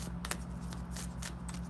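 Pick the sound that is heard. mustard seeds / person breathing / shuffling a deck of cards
shuffling a deck of cards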